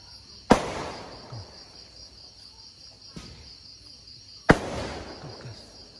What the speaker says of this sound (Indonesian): Udah kembang api.